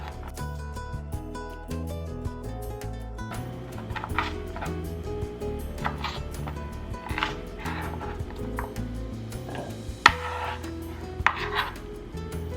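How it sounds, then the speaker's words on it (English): A knife chops a bell pepper on a cutting board, giving a run of light, irregular taps under steady background music. "we are going to work on our veggies by chopping 1 bell pepper"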